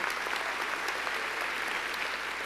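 Church congregation applauding in praise, steady, continuous clapping from many hands filling the room at moderate loudness.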